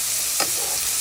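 Garlic and vegetables stir-fry in a hot oiled pan for a sweet and sour fish dish, a steady close sizzle broken by one quick scrape of a spatula, with no voices.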